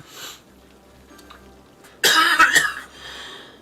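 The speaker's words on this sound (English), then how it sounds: "This cough just won't go away." A person coughs several times in a harsh close burst after a quiet, near-silent stretch, with a faint breathy sound fading out at the end.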